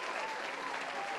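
Dutch crowds in Breda cheer and applaud arriving Polish soldiers of the 1st Armoured Division at the liberation, a steady, dense wash of clapping and crowd noise that holds evenly from start to finish.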